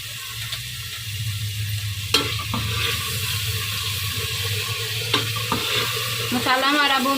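Masala sizzles in oil in a pan for a bhuna masoor dish, stirred with a spoon in a steady close-up fry broken by a few sharp scrapes, no voices.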